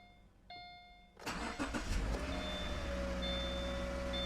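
A car engine cranks and catches at close range after a few scan-tool beeps, then settles into a steady idle with a thin electronic tone over it.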